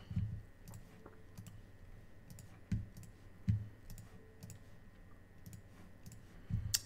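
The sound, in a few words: mouse clicking through a video game turn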